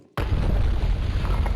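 After a brief silence, a single loud explosion bursts in the Legacy of Kain: Defiance video game and rumbles on with a dense, sustained roar.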